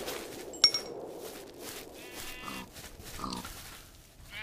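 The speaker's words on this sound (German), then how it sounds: "So, machen wir erstmal hier Schweinchen Rosa." Pigs in the Minecraft video game give a few short, soft grunts at intervals against quiet game background sounds, with a sharp click-like tick early on.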